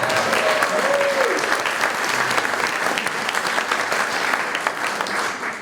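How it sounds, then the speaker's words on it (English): Audience applause at a community gathering, a thick, continuous wash of clapping from many hands, with a faint voice briefly audible underneath near the start. "Judy deserves a second round of applause"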